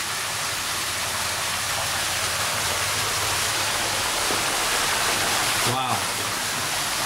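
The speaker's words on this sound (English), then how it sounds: "the main feature of the house is, of course, your big waterfall" A big backyard waterfall at a house in Fort Myers, Florida pours in a steady, broadband rushing wash, close and loud, with a brief higher sweep near the end.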